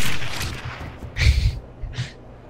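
Gunfire crackles in the open-world shooter game Red Faction: Guerrilla, two or three sharp reports spaced about a second apart over steady background noise, moderately loud and not very close.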